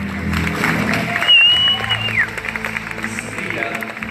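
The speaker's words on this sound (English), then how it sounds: "Keep your applause going." An audience applauds at a live show, with steady, moderately loud clapping and crowd noise beneath a host's voice and a brief whistle or squeal.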